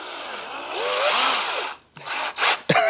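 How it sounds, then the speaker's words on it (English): A power drill spins a rolled-up tube of sandpaper clamped in its chuck against wood, giving a rising whirring hum with a rough rubbing edge, then stuttering bursts as the paper slips and breaks apart. "the sandpaper is just breaking on the chuck"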